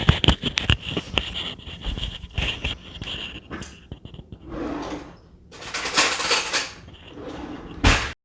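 Metal spoons and utensils clatter and clink in a kitchen during strawberry rhubarb pie making, with a quick run of sharp rattles, a quieter pause, then more scattered knocks and scrapes.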